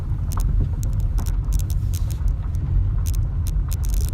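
A Volkswagen Jetta rolls slowly along a gravel driveway, a steady low rumble of engine and tyres with scattered crunching pops from the stones throughout.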